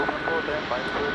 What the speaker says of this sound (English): that has parked here and is idling its engines nice and loud for us